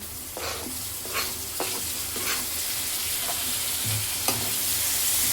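Onions and tomatoes frying in a pan for pav bhaji, a steady soft sizzle punctuated by several sharp spoon or spatula scrapes and clinks as the mixture is stirred, close and without talk.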